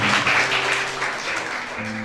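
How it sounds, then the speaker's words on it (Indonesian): Guests at a wedding ceremony clap together after the first vow, a dense, moderately loud burst of applause that thins slightly over two seconds, with a low tone underneath. "Saya pikir kita harus tepuk tangan untuk janji yang pertama."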